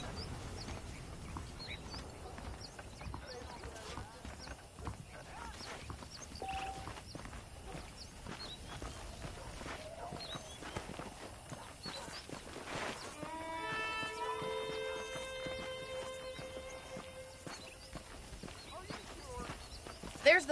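Horses in the western video game Red Dead Redemption, with quiet rhythmic hoof clip-clops and footsteps against soft ambience, a horse whinny sounding near the middle and someone speaking at times.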